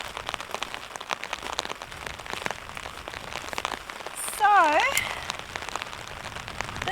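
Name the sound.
heavy rain falling on a mountain campsite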